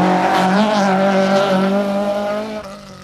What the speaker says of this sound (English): Donie Keating has moved ahead of Frank Maher in this epic battle between these two classic cars